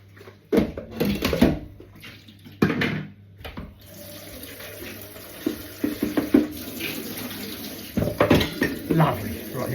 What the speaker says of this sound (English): I've refilled Snoop's water bowl